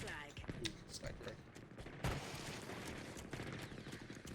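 Gunfire in a Big Team Battle match of Halo Infinite, bursts of rapid shots and blasts packed densely throughout with a heavier impact midway, fairly faint, under players' voices talking.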